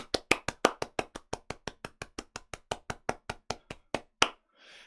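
A single person claps in a quick steady rhythm, about two dozen crisp, close hand claps in a row as a round of applause for a conference speaker, followed by a brief soft rustle.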